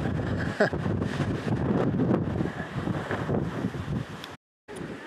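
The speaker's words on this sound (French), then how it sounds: "Ah, il y a du vent." Wind buffets a microphone on an exposed coastal mountain-bike trail, a close, rough low rumble with gusts throughout and a brief dropout near the end.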